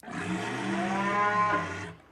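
A cow lets out a single long, loud moo lasting about two seconds, with a rich harmonic drone that swells slightly toward the end before cutting off, heard alone without any talk.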